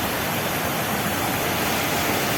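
Water rushes over the Suthamalli check dam near Nellai, a dense, loud, unbroken roar of falling water.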